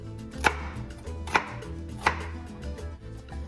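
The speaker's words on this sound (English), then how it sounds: "I'm just giving it a rough chop" Three sharp knife chops through an onion on a cutting board at an uneven, unhurried pace, close and clear with no talking.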